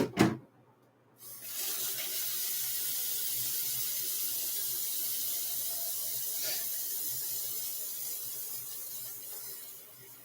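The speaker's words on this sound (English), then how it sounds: "shall we water some roaches?" A kitchen tap runs water for watering roaches kept for insect protein. After a brief start, the stream settles into a steady, close hiss that continues alone.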